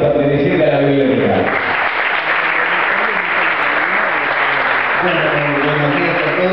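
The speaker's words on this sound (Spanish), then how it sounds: "Señoras y señores, recibimos con un fuerte aplauso a Raúl Juárez, perteneciente a la biblioteca." An audience at a public library presentation breaks into loud, continuous applause, close and full, with a voice over a sound system audible at the start and end.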